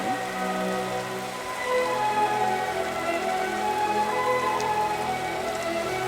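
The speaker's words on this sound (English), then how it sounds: "I was hoping the rain to finally stop. But it never did." Rain falls steadily on a camp in the cold, its continuous patter on surfaces running evenly throughout with no talk.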